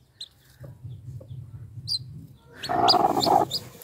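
Hens cluck in soft, repeated murmurs while sitting on eggs, then a louder burst of agitated clucking and squawks close by near the end, with freshly hatched chicks cheeping faintly.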